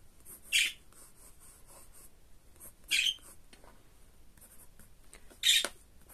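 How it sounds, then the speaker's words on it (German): Markers squeak across paper while a character design is drawn, three short scratchy strokes spaced a few seconds apart, close and quiet with soft rustling between. "wenn ich hier anfange zu zeichnen"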